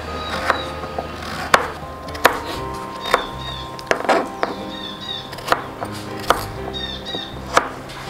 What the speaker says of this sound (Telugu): ఇలా ముక్కలు చేసుకొని ఇలా సన్నగా తరుక్కోవాలి.